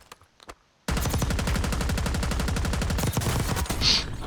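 Automatic weapon fire in Warzone, Black Ops 6, a loud sustained burst of rapid evenly spaced shots after a few quiet clicks, then a brief lull and trailing effects.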